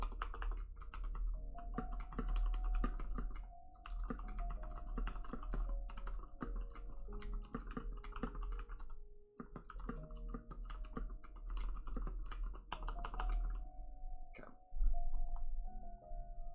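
Notes are typed on a computer keyboard in rapid, dense bursts of clicking keys, pausing briefly between flurries, close and clear, with no talking.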